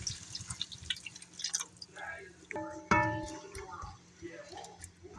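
Soy sauce and pineapple juice poured into a pot of Filipino menudo, heard as a brief, soft splash and trickle of liquid over quiet kitchen clatter, with someone talking throughout.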